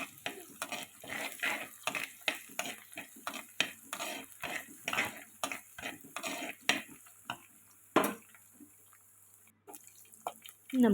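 Green chillies are stirred and fried in a pan for a fish curry, with rhythmic scraping strokes and soft sizzling close by, and a sharper clatter near the end.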